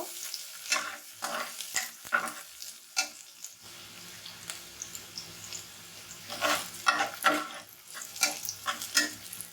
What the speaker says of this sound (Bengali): এর মধ্যে আমি দিয়ে দিচ্ছি দারচিনি, এলাচ আর তেজপাতা। দিয়ে আমি ভালো করে একটু ভেজে নেব।